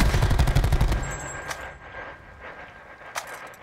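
A close burst of rapid gunfire in a first-person shooter video game rattles for about a second, then gives way to quieter game sounds and a couple of faint distant shots.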